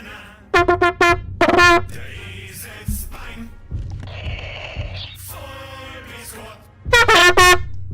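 Loud, blaring air horn bursts played as a stream sound effect, several harsh blasts near the start and again at the end, with shorter honks and background noise between them.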